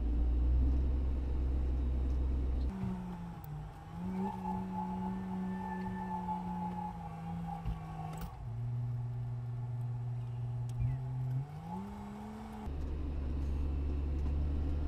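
A Fendt tractor with TMS drives along, its engine humming with steady tones that shift up and down in pitch as the speed changes, under a low continuous rumble with no talk.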